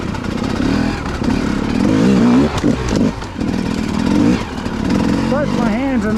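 Several motorcycles ride together on a cold winter outing, engines droning loudly and shifting pitch as they accelerate, with wind rush and a rider talking over the noise.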